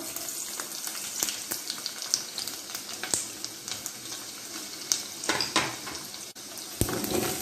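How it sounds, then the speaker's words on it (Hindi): Steady sizzling of garlic frying in hot oil in a pot, with occasional stirring clinks and crackles close by. "इसको सौते करेंगे हम, ताकि एक अच्छा सा लहसुन में एक कलर आ जाए"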